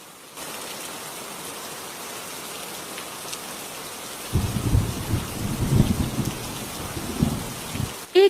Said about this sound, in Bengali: এই বৃষ্টি তো কয়েকদিন থেকে থামছেই না